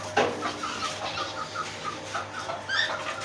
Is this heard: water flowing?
no